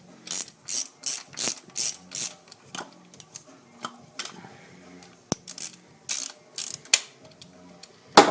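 Ratchet wrench clicking in quick bursts while loosening a spark plug on a Nissan 240SX engine, close and crisp, with short pauses between strokes.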